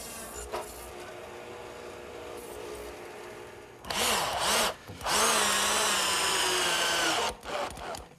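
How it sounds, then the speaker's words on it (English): A radial arm saw fitted with a stacked dado head plows across a wooden tenon for a garden gate, two loud bursts of cutting noise after a quieter stretch of motor whine, alone without talk. "since I still have the radial arm set up with the stacked dado head cutter, I'll just plow out all 4 sides"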